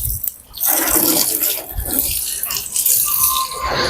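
Water sprays steadily from a garden hose onto a car being washed at home before a foam wash, a loud, continuous broadband hiss with slight fluctuations and no voices.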